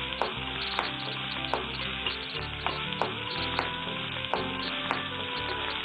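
Spices and green chilies sauté in hot oil in a pan for a Tamil ivy gourd (kovakkai) dish, giving a steady loud sizzle broken by regular sharp taps and scrapes of a stirring spoon.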